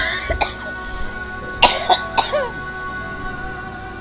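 A person coughs about four times in short, sharp bursts. One cough comes early, then a quick cluster of three follows, against a quiet indoor background.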